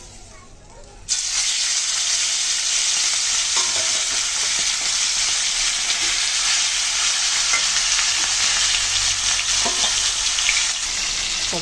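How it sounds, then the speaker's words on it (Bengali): Tilapia pieces rubbed with salt and turmeric drop into hot oil and burst into a loud, steady sizzle that holds for the whole stretch, with a few faint clinks. "তো আমি ওই মাছটা ভালো করে আগে ভেজে নেব।"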